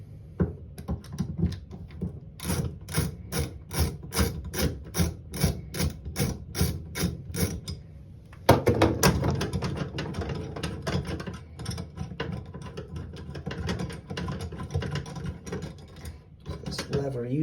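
A Phillips screwdriver loosens screws on a bathtub drain lever, clicking in a fast, regular ratcheting rhythm close by, then giving way to scraping, rattling metal handling with quiet talk.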